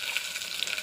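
Whole spices for a tempering crackle and sizzle in hot oil, a close, steady frying hiss with small pops and no voices.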